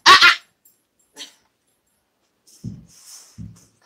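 A dog crawling low across the floor toward someone at home gives a sudden loud burst of sound at the start, then a brief faint noise, followed by softer low snuffling sounds near the end.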